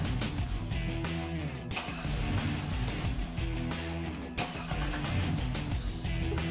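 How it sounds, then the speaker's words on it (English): A car idles while fuel pressure bleeds off during a fuel pressure check, a steady low rumbling drone with busy mechanical clatter, close and continuous, no one talking. "We can start the vehicle and allow the pressure to bleed off"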